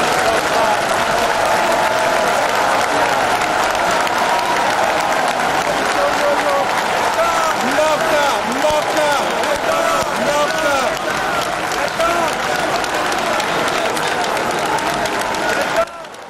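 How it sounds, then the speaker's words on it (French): Thunderous applause from a large crowd greets the entrance of the supreme magistrate at a ceremony for newly recruited magistrates, a dense, sustained roar of clapping that fills the whole stretch before cutting off abruptly at the end. "dont l'entrée dans la salle a provoqué un tonnerre d'applaudissements."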